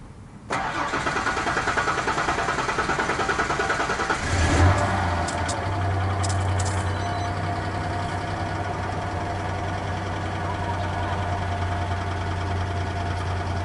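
A Ford Explorer engine cranks and fires after a fuel pump replacement, catching with a surge of revs before settling into a steady, close idle with a low hum that runs on alone without any talk.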